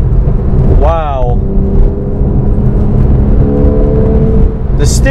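Porsche 911 991.1 Carrera S on fresh Michelin PS4S tires, a steady low engine and road drone heard from inside the cabin, continuous and fairly loud, with a brief voice near the start.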